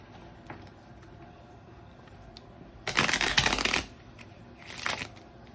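Gypsy Witch tarot cards are shuffled close up in two bursts, a long riffling flutter followed by a shorter one, with quiet handling between.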